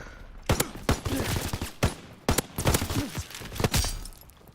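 Rapid gunfire in Call of Duty: WWII cracks out in sharp, loud, uneven bursts of rifle and automatic shots, with short gaps between volleys.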